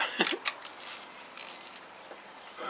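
A socket wrench ratcheting on a bolt of a long-unstarted Suzuki 230, quick close clicking strokes in short bursts at low volume.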